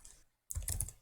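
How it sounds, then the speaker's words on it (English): Soft, quick keystrokes on a computer keyboard during a CAD text task, starting after a brief silence as a short, faint burst of clicking. "come down and start typing"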